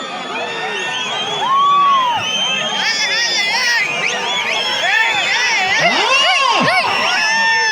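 A large crowd at a village festival keeps up loud, continuous shouting and shrill whistling, many voices cheering close by without a pause.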